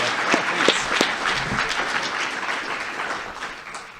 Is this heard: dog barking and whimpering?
no